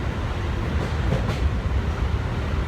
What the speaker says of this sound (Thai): เดี๋ยวตอนนี้อยู่บนรถไฟนะครับ